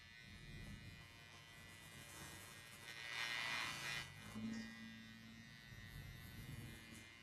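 Electric hair clipper buzzing steadily while cutting hair around the crown during a barbershop social haircut, a continuous close motor hum that swells louder midway through.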